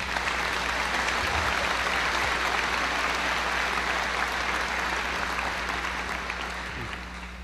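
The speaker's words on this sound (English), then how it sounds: "Let's give our teachers a round of applause." At a high school graduation, a crowd applauds the teachers with sustained, dense clapping over a low steady hum, fading slightly toward the end.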